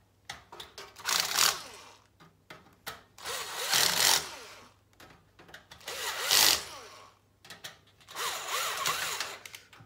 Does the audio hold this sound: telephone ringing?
no